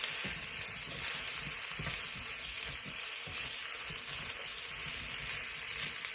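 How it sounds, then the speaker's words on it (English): Chili is stirred in a pot: a soft, continuous sizzle and hiss with repeated dull thuds and scrapes from the spoon, quiet and close. "Stir that all around."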